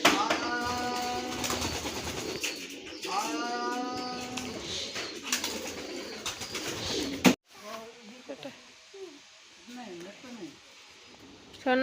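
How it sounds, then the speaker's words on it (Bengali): Pigeons being fed and called into their coop coo in repeated soft throaty bursts, with voices and household sounds mixed in before the sound drops off and resumes more quietly. "কবুতরটি ঘরে ঢুকাইতে আছে ডাক দিতে আছে"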